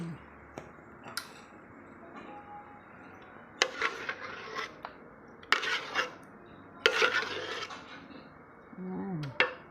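Cooked maja blanca, a coconut-free version, being moved into a serving dish with clinks and scrapes of utensils against cookware, coming in short bursts with pauses between.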